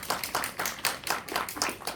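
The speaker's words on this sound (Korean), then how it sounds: "두 분께 박수 한 번만 부탁드릴게요." Audience clapping at a film screening Q&A in a cinema, a modest, fairly quiet round of distinct handclaps with a loose, pulsing rhythm over a couple of seconds.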